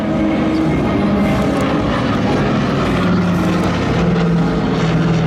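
A Douglas Dakota propeller aircraft from June 1944 flying at an air show over Biscarrosse, its steady loud engine drone holding throughout without a break.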